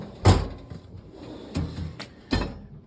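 A toolbox drawer holding quick jacks is handled, giving three separate sliding clunks spaced about a second apart, moderately loud and close, with faint room noise between them and no talk.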